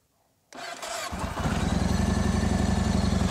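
A motorcycle with a phone holder mounted on it is started after a short silence: a brief cranking catch, then the engine settles into a loud, steady, throbbing idle close by.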